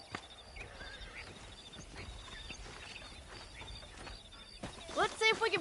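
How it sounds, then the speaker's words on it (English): Wild horses in the Red Dead Redemption video game, with a soft ambient bed giving way near the end to a loud, close, wavering neigh and a few hoof thuds. "That ranch hand said there's a pack of wild horses nearby."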